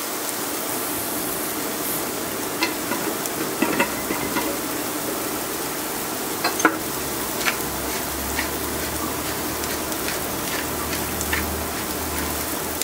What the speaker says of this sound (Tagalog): Sarap ng crackling sound ng pepper.